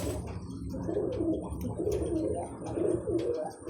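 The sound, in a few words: fancy pigeons cooing on a farm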